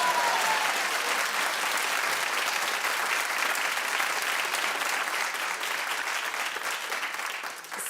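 Studio audience applause on a daytime talk show, loud and sustained for several seconds, a dense steady wash of clapping that thins slightly at the very end.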